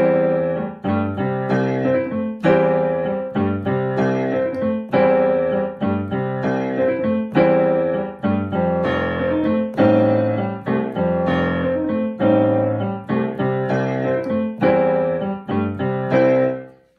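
Solo piano plays a rhythmic New Orleans rhumba groove, with repeated chord stabs and a bouncing left-hand bass line that anticipates the octave, steady and close for the whole passage.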